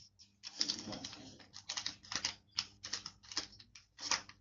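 Paper is folded and creased by hand into a simple paper airplane, giving quiet, close, sharp crisp clicks and rustles that come in an uneven, roughly regular series of short bursts.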